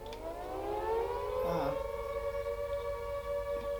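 A World War II air raid siren wails steadily with a rising, sustained tone, loud and droning without pause.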